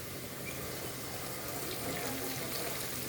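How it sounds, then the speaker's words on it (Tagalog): Water poured or running into a cooking pot while making a vegetable and sardine dish with corned beef, a steady close splashing rush filling the clip with no pauses. "lagyan natin tubig guys"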